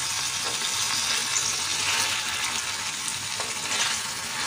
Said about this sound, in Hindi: ये अब इसे अच्छे से भून लेते हैं ताकि हमारा जो मसाला है ये और ऑयल का कच्चापन ये सब हमारा भून जाए।